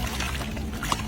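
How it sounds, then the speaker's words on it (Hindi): Water is poured over desi mutton as it is washed outdoors, a close, continuous splashing trickle lasting about a second. "एकदम मटन धोला जा रहा है इधर।"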